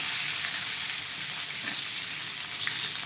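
Semolina-coated bangda mackerel fries in hot oil, giving a steady close hiss with a few faint movements as the pieces are turned in the pan.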